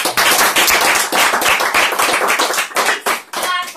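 Loud audience applause, dense and continuous clapping from many hands, briefly dipping and swelling again near the end.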